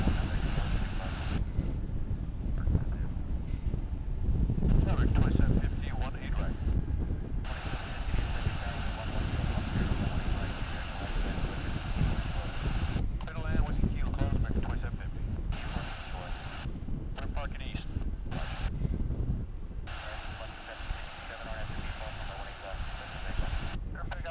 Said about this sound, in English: It's really windy.